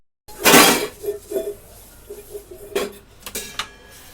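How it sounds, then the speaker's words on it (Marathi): Pots, pans and metal containers clink and clatter as they are scrubbed at home during cleaning, with one loud clang followed by scattered lighter knocks and scraping, no talk. "मी मागा भांडी डब्बे घासायला घेतलेला आहे"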